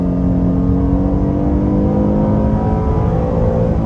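A 2024 Buick Enclave Avenir pulls hard in second gear from about 20 mph up to 7,000 rpm, its engine note droning loud and steady with a gradually rising pitch, heard from inside the cabin.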